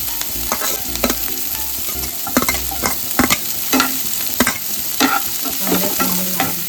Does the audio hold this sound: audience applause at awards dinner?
no